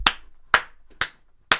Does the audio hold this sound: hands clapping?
yes